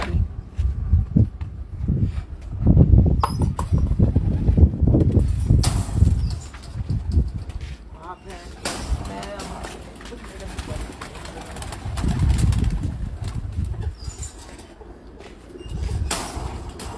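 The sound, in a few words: pigeons cooing and flapping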